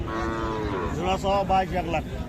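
Cattle moo loudly and close by at the Ambari livestock market in Dinajpur, among young heifers around eight to ten months old. Several drawn-out lowing calls rise and fall over a busy market din.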